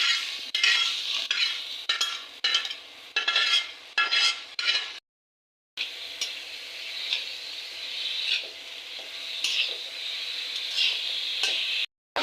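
Shrimp frying in one part of a pan while radish greens cook in the other, heard as close bursts of crackling sizzle and spatula scraping, broken by a brief silent gap and then a steadier sizzle with clinks.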